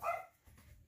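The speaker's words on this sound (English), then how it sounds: "Darn that dog." A dog gives a single short bark close by, loud at first and fading quickly, with low background rumble afterward.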